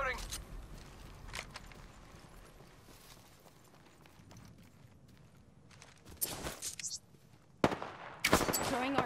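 Apex Legends gunfire: after a quiet stretch with light movement, sharp bursts of shots crack out near the end, loud and close, with a player's voice calling out in between.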